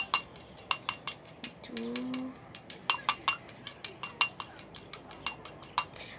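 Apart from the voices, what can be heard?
spoon mixing honey face mask in a bowl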